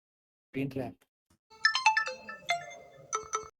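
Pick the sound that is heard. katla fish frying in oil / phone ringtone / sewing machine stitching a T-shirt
phone ringtone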